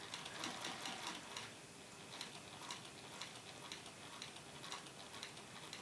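A domestic sewing machine runs steadily while stitching a drawstring barre, giving a close, rapid ticking rhythm that carries on without a break and with no one talking.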